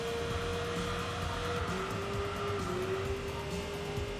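A sport sedan engine in the racing game Enthusia Professional Racing drones at high revs with a sustained, aggressive whine that holds a steady pitch, shifting slightly partway through, with no talking.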